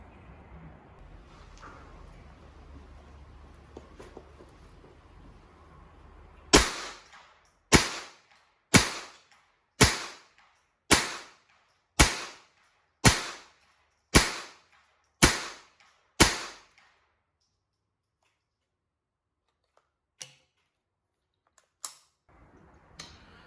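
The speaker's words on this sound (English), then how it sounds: "we put a few rounds through the gun." A Walther G22 rifle fires at the range with ten sharp, evenly spaced shots about a second apart, loud and close, after a low murmur of background noise; a few fainter clicks and pops follow after a pause.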